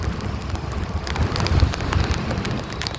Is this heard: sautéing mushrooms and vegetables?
no